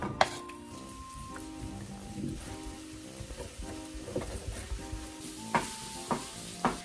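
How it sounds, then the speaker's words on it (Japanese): Food fries in oil in a pan, giving a close, crackling sizzle with irregular spatters and clattering stirs over a faint tonal background. "炒めますよと。"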